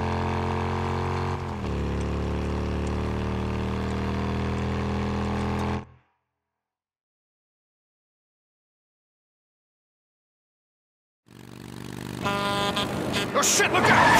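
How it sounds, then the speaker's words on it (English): Motorcycle engine in the game Days Gone, loud and steady with a rising rev near the start, cutting to several seconds of silence before the engine roars back louder and rougher. "Remember, you gotta give it enough gas, rev up the RPMs."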